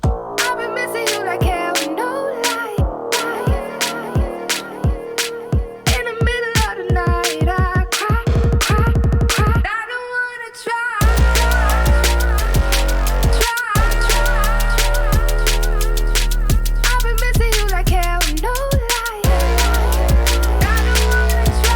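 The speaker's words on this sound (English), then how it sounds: "Today I'm going to be showing you a Skantia inspired drum and bass track" A Skantia-style drum and bass track opens with choppy synth stabs and a rapid build, then drops into fast breakbeat drums with heavy sub-bass, playing loud and continuous.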